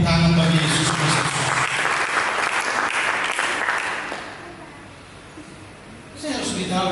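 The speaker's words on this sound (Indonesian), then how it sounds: "Mari kita berikan tepuk tangan bagi Yesus Kristus." A church congregation bursts into loud, sustained applause that gradually fades after a few seconds, with a voice speaking over it before the clapping dies away.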